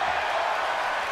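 Wrestling crowd at an event, a dense, steady roar of many voices that fills the moment, loud and continuous with no distinct chant rhythm, brief.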